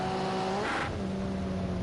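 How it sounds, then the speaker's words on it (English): A Nissan Group A touring car races at Oulton Park, its engine howling high at the rev limiter with steady harmonic tones that shift briefly mid-run. It is loud and close, with no voices. "Buzzes the limiter into Cascades."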